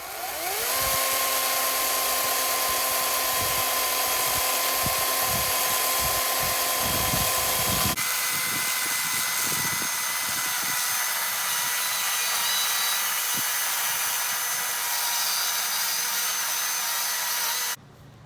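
A power saw cuts through wooden planks being made into a table, a loud steady whine with a pitch drop as the blade bites, then a continuous harsh cutting roar running close and alone to the end.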